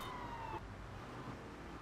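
A police car siren wails in the Grand Theft Auto III video game, faint and low-level, its rising tone cutting off after about half a second, leaving muffled engine and traffic noise.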